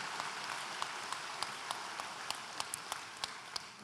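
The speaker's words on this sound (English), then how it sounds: "a big round of applause for all our award recipients" A graduation ceremony audience applauds its award recipients, with steady, dense clapping from many hands and scattered sharper claps cutting through, held at an even level throughout.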